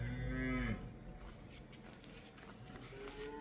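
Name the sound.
bull mooing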